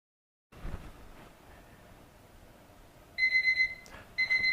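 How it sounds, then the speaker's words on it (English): A kitchen timer alarm sounding in a quiet room during a Porsche 911 (997) Turbo headlight job, giving short bursts of high electronic beeping after a few seconds of low hum. "wait for the timer to go off"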